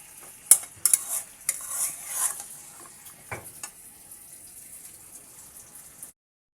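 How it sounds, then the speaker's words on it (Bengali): Rohu fish curry with beans, potato and tomato frying in oil, with a soft continuous sizzle under irregular spoon scrapes and clinks against the pan that fade toward the end. "এবার আমি তরকারিটাকে সামান্য একটু ভেজে নিচ্ছি।"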